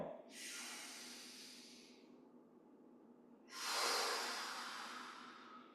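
Two forceful breaths during Yi Jin Jing exercise, first a long hissing rush of air that fades, then a second strong exhale after a pause, close and clear with no talk.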